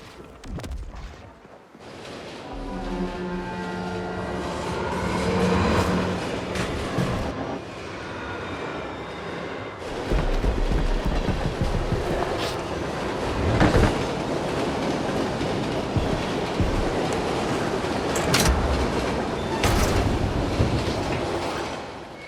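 Train running in the video game The Ascent, a VIP transport, rumbling and clattering continuously with rhythmic rail clacks and metallic bursts, loud and close throughout with no speech.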